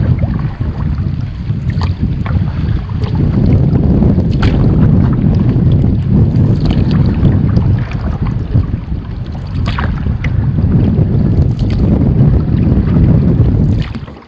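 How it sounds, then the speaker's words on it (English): Steady, loud wind roars across a lake in the Boundary Waters on a solo September canoe trip, a dense rumbling wash with gusting swells and faint water sounds, continuous throughout with no talk. "Got a little windy out here."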